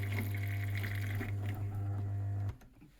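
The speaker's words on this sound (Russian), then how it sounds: "Вот отсюда у нас вода идет, она значит накачивает." An espresso coffee machine's vibratory water pump hums loudly and steadily at close range with gurgling water over it, then cuts off abruptly near the end, leaving a faint quiet background.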